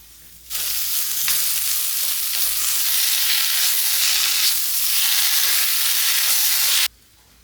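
Chopped potato pieces hit hot oil in a pan already seasoned with pepper powder and garam masala, setting off a sudden loud sizzle that crackles steadily while they are stirred, then cuts off abruptly near the end, with no talking.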